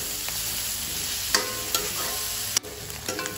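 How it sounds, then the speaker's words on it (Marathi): Onions sizzle steadily in a pan for pav bhaji, with a few scattered clicks of a stirring spoon over the constant close frying hiss. "कांदा शिजवून घेऊ।"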